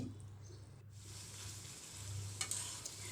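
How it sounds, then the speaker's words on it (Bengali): Spice paste for a rohu fish curry with ridge gourd is stirred and fried in a pan, giving a steady low sizzle with soft scraping and a few brighter clinks near the end, with no voices. "এই মশলাটাকে আমি নেড়ে চেড়ে কিছুক্ষণ কষিয়ে নেব খুব সুন্দর করে"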